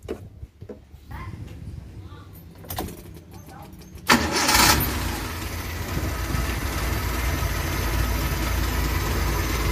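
Suzuki Carry 1.0 carbureted engine running steadily at idle during carburetor tuning, a loud continuous rumble that swells after a few seconds of quieter running and then holds evenly to the end.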